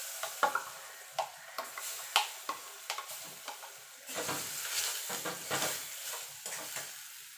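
Lentils tipped into a pan of sizzling asafoetida and turmeric give a soft frying hiss with repeated light clicks and scrapes of stirring, fairly quiet and with no talking.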